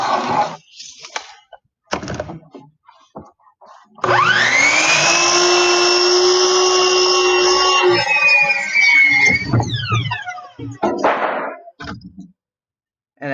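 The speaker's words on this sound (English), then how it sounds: "And that's how you cut a board down to length." Power saw spinning up with a rising whine and cutting a wooden board to length in a woodshop, a loud sustained roar lasting several seconds that winds down, with handling clunks before and after.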